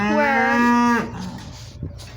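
A cow moos loudly inside a barn, one long low call lasting about a second, then fading into quieter barn background with no talking.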